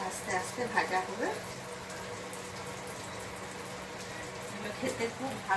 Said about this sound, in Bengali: এটা আস্তে আস্তে ভাজা হবে।